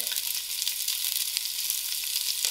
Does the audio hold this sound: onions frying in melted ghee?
yes